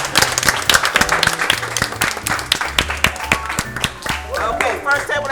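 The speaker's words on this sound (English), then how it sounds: "Let's give this a table round of applause." A table of people claps together at an etiquette dinner, dense, fairly loud applause with murmuring voices mixed in.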